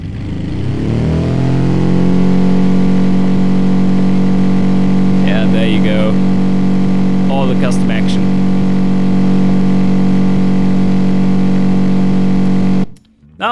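A boxer pushrod pancake engine in a video game drones at steady high revs after a rising start, with a buzzy harmonic tone that cuts out abruptly at the end; brief sounds overlap midway.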